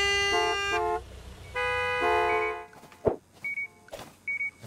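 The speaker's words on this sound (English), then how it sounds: "Honk, honk, honk." Car horn honks in Gas Station Simulator, two sustained toots in close succession, followed by scattered thumps and short electronic beeps.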